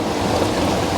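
Brief, steady rush of water flowing down a channel feeding a Himalayan gharat watermill in Uttarakhand, close and continuous with a low gurgling texture.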